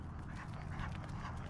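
A dog named Charlie pants rapidly and steadily up close, a breathy rhythmic huffing with no talk over it.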